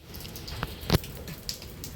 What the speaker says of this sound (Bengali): এখন হচ্ছে বৃষ্টিটা হচ্ছে থেমেছে, কিন্তু পুরোপুরি থামেনি, হালকা হালকা একদম হচ্ছে ঝিরঝিরি করে পড়ছে।